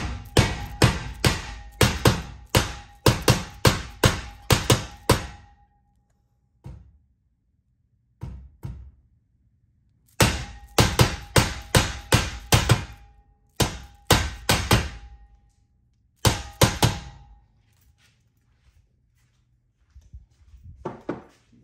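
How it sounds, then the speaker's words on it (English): A hammer taps repeatedly to realign the lock rod of a garage interior lock, loud sharp metallic strikes in quick bursts of several blows separated by short pauses, with a few faint isolated knocks between bursts. "I will have to just use a hammer"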